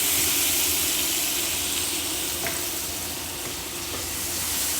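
Meatballs frying in melted butter in a pan give a loud, unbroken sizzle and hiss that holds steady throughout, close up and with no voices over it.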